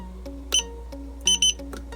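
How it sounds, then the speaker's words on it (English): A CellMeter 7 battery tester gives short electronic beeps, one single beep followed by a quick double beep, clear and close with a faint tonal background. "It'll make the beeping noise, and then it starts balancing."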